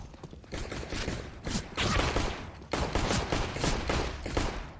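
Rapid pistol gunfire from a Counter-Strike match, with dense overlapping shots and loud bursts through most of the stretch and brief lulls in between.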